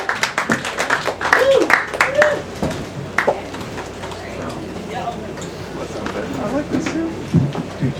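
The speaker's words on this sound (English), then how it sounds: "Can we have a big round of applause for Hannah Pachmann, everybody?" Audience at an open mic poetry night applauds a poet with bursts of clapping that fade into a low murmur, with some talk and a few cheers mixed in.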